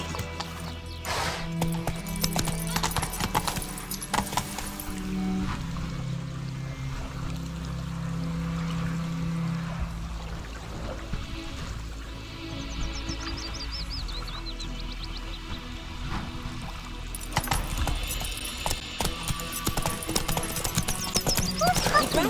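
A horse gallops in The Witcher 3 video game, its hooves pounding in a steady clip-clop rhythm under spoken dialogue and light background noise.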